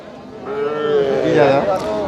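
Cattle moo loudly and close by at a village livestock market (haat) in Thakurgaon district, Bangladesh, with one drawn-out, wavering low call that swells and fades over about two seconds, set against faint background murmur.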